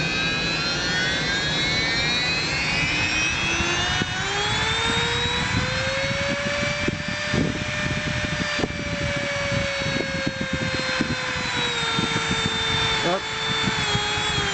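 A Nikota rotary tool runs after a potentiometer repair, a continuous close whine whose pitch rises and settles as the speed changes, with a person talking over it.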